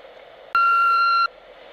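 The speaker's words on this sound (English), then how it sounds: "leave a message after the tone" An answering machine's message tone sounds once, a single loud, steady electronic beep of under a second, between quiet background hiss.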